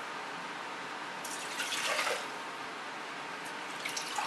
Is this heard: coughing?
no